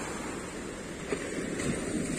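Sea waves washing onto a long beach at a Turkish resort, a steady wash of surf mixed with wind noise on the microphone, continuous and without speech.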